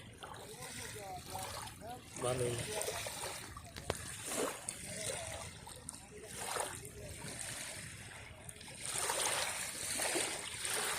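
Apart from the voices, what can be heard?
river waves crashing on the shore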